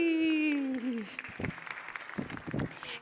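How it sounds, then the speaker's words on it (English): Computer-generated applause plays from a laptop at a school tech presentation's prize drawing, a brief burst of clapping that follows a loud tonal chime and carries on amid room noise and a voice. "Oh, the computer's clapping as well."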